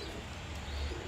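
Pigeons kept for sale, including Budapest, racer and other domestic breeds, give a short, low, soft cooing murmur close by, brief and fairly quiet.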